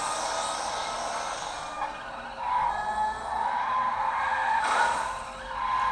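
Tires skid and squeal as a video-game car drifts, a sustained loud screech that swells and fades over engine noise, with no talking.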